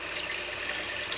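Water poured into a cup on a stove while making palm jaggery coffee, a brief, steady, close splashing stream with no talk.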